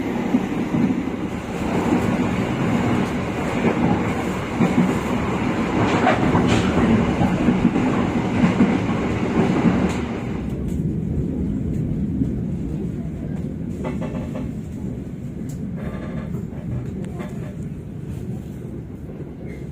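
An economy-class Brantas passenger train runs on the rails, heard from inside with a continuous rumbling roar and rhythmic clickety-clack of wheels, louder in the first half, then easing to a steadier, softer rolling hum.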